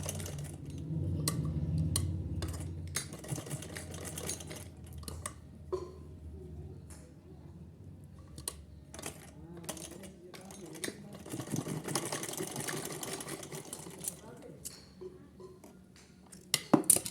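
Sewing machine stitching small fabric pieces together for a doll's dress, its motor running in steady bursts with short pauses and light clicks between, fairly close and unaccompanied by talk.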